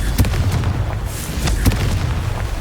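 A loud, booming Confringo spell explosion goes off in the video game Hogwarts Legacy, a dense rumbling blast with a few sharp pops crackling through it.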